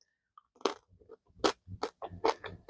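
Close, crisp crunches from chewing chocolate-covered nuts and coffee beans come in irregular bursts of about eight bites over a few seconds, with quiet gaps and no talking.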